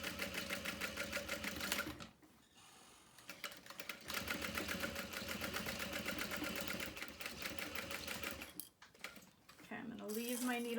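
A sewing machine stitches a bag, running in long steady bursts with brief pauses between, close and fairly loud; a voice speaks briefly near the end.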